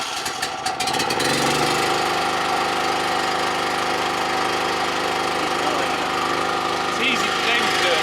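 An engine fires up with the choke on at an off-grid stone farmhouse. A short, rough catch is followed by a loud, steady idle with a slightly knocking, vibrating rumble that continues to the end.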